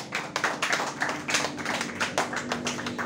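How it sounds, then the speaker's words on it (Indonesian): An audience at an evening religious talk show claps together, a close, busy patter of many hands that holds steady throughout. "Tepuk tangan buat Uwa."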